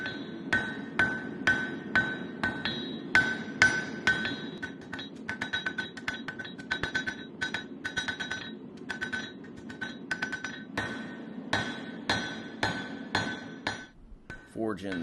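A hammer strikes a steel knife blade on an anvil during pre-forging, a long run of sharp ringing metallic blows, some steady and others in quick clusters, loud and close with no talk.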